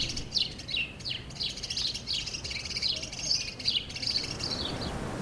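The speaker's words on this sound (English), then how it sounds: "Butch the Great Tit and a dunnock arrives." A great tit and a dunnock chirp close by in a garden, with bright, rapid tweets and trills repeating throughout over a soft background hiss.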